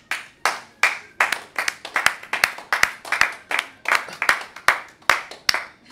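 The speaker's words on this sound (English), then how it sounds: "Can I have a round of applause, please?" Several people clap in a round of applause during a game show, the claps sharp and close, slightly unsynchronised and fairly loud, with no talking over them.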